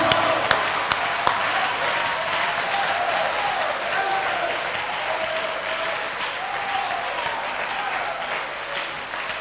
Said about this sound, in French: Des acclamations pour eux.